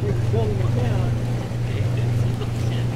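A dredge boat cruises out on the Bering Sea off Nome, Alaska, giving a steady, loud low engine drone with water and wind noise throughout.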